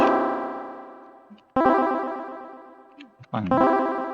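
A buzzy, distorted synth chord plays on an M8 tracker as a fast stepping arpeggio in several sustained bursts, each fading before the next one starts.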